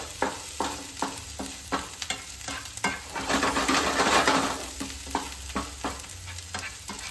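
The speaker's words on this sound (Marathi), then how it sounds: "त्याला थोडंसं सॉते करून घेऊया" Turmeric and Kashmiri red chilli powder are sautéed in a pan for paneer butter masala, a soft sizzle under repeated sharp scrapes and taps of a spoon stirring against the metal, rising to a louder fry midway.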